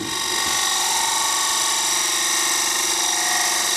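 Roughing gouge alternative cutting wood on a lathe, a steady, loud whirring scrape with a high hiss that runs without pause throughout.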